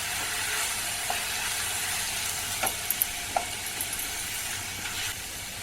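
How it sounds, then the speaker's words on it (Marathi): Chopped tomatoes and cashews roast in a hot pan with spices, giving a steady close sizzle with a few sharp clicks and scrapes of a stirring spoon. "आठ ते दहा काजू घेतलेले ते पण आता भाजून घेऊया"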